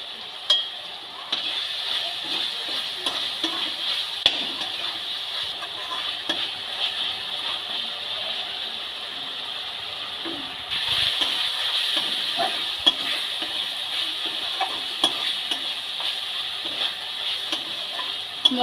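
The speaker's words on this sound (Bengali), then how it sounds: "মশলাটা খুব ভালো করে কষানো হয়ে গেছে" Chilli and cumin spice masala being stir-fried in oil for chicken chow mein, a steady close hiss and sizzle with occasional scraping taps, getting louder about halfway through.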